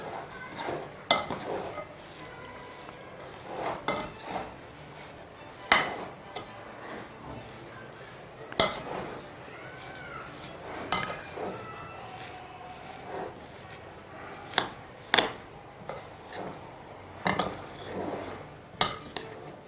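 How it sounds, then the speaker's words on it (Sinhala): Isso Wade batter, seasoned with salt, being mixed in a bowl with a spoon: scattered close clinks, taps and scrapes come in irregular bursts over a quiet background, with no talking. "ඊට පස්සේ අපි මේ ටික හොඳට කලවම් කරගන්න ඕනේ"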